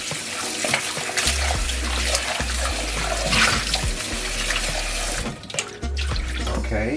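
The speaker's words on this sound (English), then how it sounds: "let me get rid of this water and rinse it off" Steady rush of running tap water, close and loud, with brief interruptions as chicken feet are moved under the stream for rinsing.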